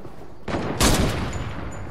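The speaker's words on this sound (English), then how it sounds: "They're shooting at us." Game gunfire coming as a sudden burst of rapid shots, with a sharper louder crack near the middle, then a fading rumble.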